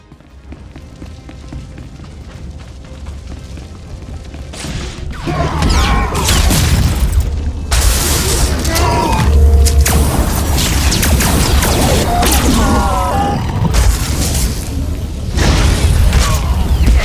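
Explosions and combat racket on Onderon in Star Wars: The Old Republic, with loud booms, crashes and mechanical clatter building after a quieter start and continuing densely throughout.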